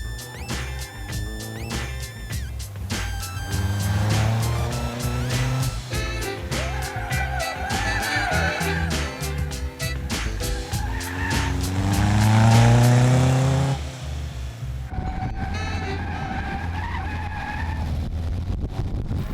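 A Caterham race car spins out on track during a racing school session, its tires squealing and skidding loudly with a steady, revving engine throughout and a shift in tone near the end.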